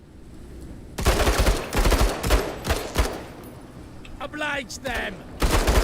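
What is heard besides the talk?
battle rifle gunfire in the video game Menace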